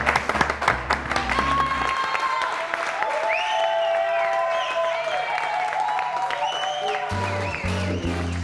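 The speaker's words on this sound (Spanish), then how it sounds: "Nuestros invitados esta noche, un aplauso" A studio audience on a Chilean TV program applauds guests including a New York salsa dura band; clapping runs steadily throughout, overlaid by bursts of tonal chatter and a brief low musical thump near the end.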